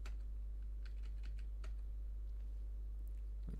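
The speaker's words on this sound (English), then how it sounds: "I'll just copy this code and type it in" Computer keyboard typing while entering Python code for a Django app, a steady run of light, quick key clicks close by over a constant low hum, with no talking.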